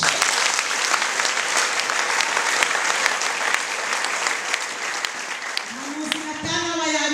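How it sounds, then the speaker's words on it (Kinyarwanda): A church congregation claps steadily and loudly throughout, a thick wash of applause during a sermon, with a voice starting to speak just as it ends. "Mukomere amashyi."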